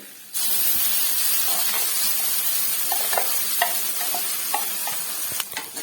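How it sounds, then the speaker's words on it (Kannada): Onions and masala fry in a hot pan for egg sambar. A loud, continuous sizzle and hiss runs under scattered scraping and stirring clicks, close up and without speech. "ಇವಾಗ ನಾನಿಲ್ಲಿ ಮಸಾಲೆ ಹಾಕಿ ಫ್ರೈ ಮಾಡ್ಕೊತಾ ಇದ್ದೀನಿ"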